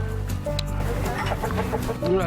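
A flock of around thirty backyard chickens clucks and murmurs in short, overlapping calls over a low background rumble, moderately close, with a few rising squawks near the end.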